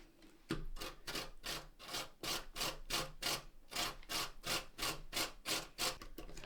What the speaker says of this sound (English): that's our cucumber grated